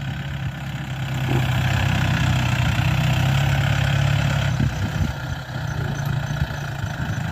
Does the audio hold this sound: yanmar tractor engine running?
yes